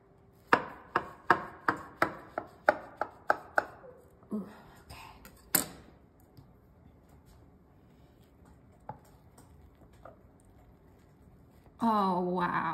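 A knife cuts a slice of angel food cake, with a run of about a dozen sharp evenly spaced taps against the board, then a few sparse softer knocks, and brief rustling at the end.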